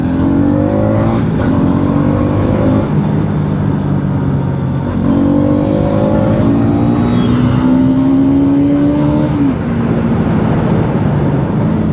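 A car engine accelerating after a shift into second gear, close and loud, with rising revs that drop and climb again through the gear change, recorded from inside the moving vehicle.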